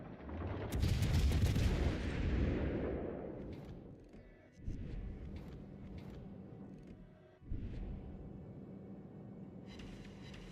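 Naval guns fire in a warship video game: a heavy booming salvo opens with a long rolling decay, followed by two more distant thumping shots spaced a few seconds apart over a low background rumble.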